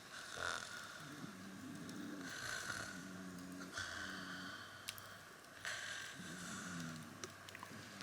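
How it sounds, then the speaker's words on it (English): A person snores in a tent on a canoe trip at Crotch Lake in North Frontenac Parklands, with repeated low rasping breaths about every second and a half, moderately close and fairly quiet. "you're snoring,"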